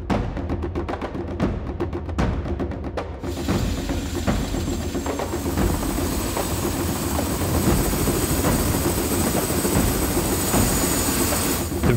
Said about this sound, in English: The rotors started to roar and we thundered into the air from Lahui Airport in Kauai.